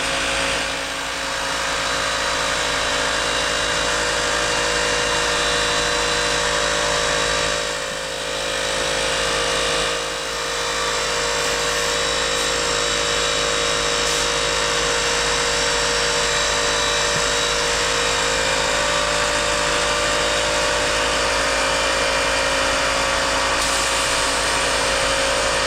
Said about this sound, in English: And I like to plug in my air compressor.